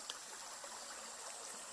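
Flowing water of a small stream on a farm outing, a steady hissing rush that fills the background at an even, moderate level without pause.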